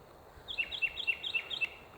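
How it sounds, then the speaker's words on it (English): A bird chirps about six times in a quick, evenly spaced series of high, bright calls over a quiet outdoor hush. "all I hear is these birds"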